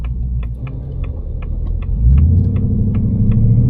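A 2025 Ford Mustang GT, 450 hp, rumbles steadily from the driver's seat while cruising, its deep engine note swelling louder as it accelerates partway through, with faint ticking clicks over the drone.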